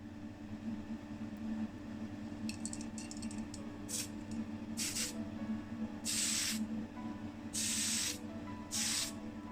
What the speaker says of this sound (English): But on with the Tamiya Fine Surface Primer in white.